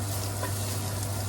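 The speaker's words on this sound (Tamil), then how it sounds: "அது நல்லா போகிற வரைக்கும் கொஞ்சம் ஒரு 2 to 3 minutes நல்லா வறுத்துக்கணும்." Ginger and garlic frying in a pan, a steady close sizzle with an even crackling hiss and a low hum beneath, no talk.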